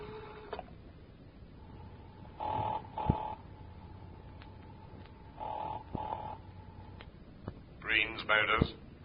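A telephone rings in an old radio drama, several separate buzzing rings in a steady pattern, fairly close and clear against a quiet hiss, followed by brief voiced sounds near the end.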